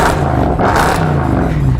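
A modified car with a tucked, low stance revs its engine close by, giving a steady, loud, throaty roar with a slight surge partway through, heard alone.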